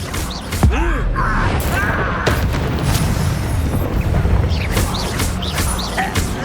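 Confringo explosion spell going off in the video game Hogwarts Legacy, a loud booming blast amid a dense, continuous wash of game combat noise with crackles and magical whooshes, no talking.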